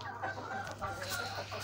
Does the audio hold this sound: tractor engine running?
no